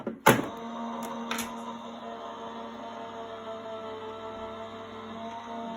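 A manual die-cutting machine feeds card under a clear plate with a couple of sharp clunks at the start, then a steady whirring grind continues evenly, close up with no talking.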